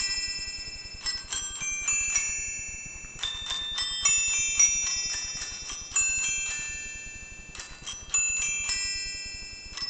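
Jingle Bells rings out on small mechanical bells, bright metallic notes struck in quick groups with short pauses, steady and fairly quiet, no voices.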